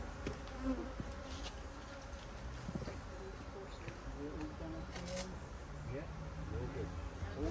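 Honey bees swarm and buzz steadily around an open hive during winter preparation, a dense, continuous drone close by with faint scattered knocks and movement beneath.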